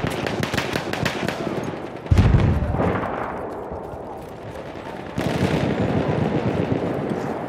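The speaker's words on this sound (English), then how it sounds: "There's an enemy machine gun!" Machine gun fire from the Battlefield 1 video game comes in a rapid rattling burst, then a heavy blast with a rumbling decay, then steady automatic fire resumes. It is loud and close, with no speech.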